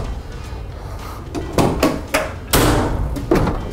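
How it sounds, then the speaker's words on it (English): The door of a 2017 Ford Transit Winnebago RV is shut, giving several close, solid thuds and clunks of latching metal in quick succession. "Door closes."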